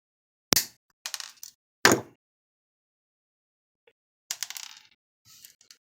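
Wire cutters snip through a toy car axle, giving a few sharp, close clicks and snaps separated by silence.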